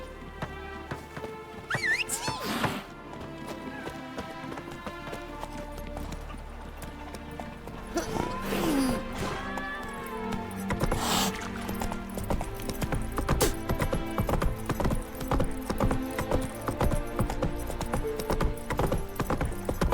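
Geralt's horse Roach in The Witcher 3 clip-clops steadily across the ground, hooves close and clear, with a brief whinny. Game music and ambient sound play throughout, and the pace quickens toward the end.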